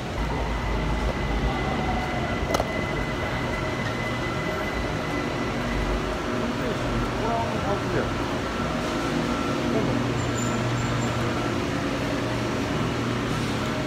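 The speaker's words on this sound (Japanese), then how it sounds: "はい、電車来ましたんで乗ります" A driverless BTS Skytrain arrives at a station, rumbling steadily with a low mechanical drone and hum, station noise around it and faint voices in the background.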